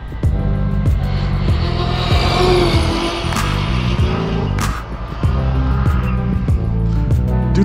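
Losi 5B large-scale RC car with a Lehner 3080 motor, driven hard with loud high-pitched whining revs rising and falling repeatedly, a brief dip near the middle, then revving again throughout.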